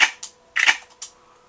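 Gunfire in the Western video game Red Dead Redemption, played on expert mode for a headshot: three or four sharp, close cracks over about a second, the middle pair bunched together, with no talking.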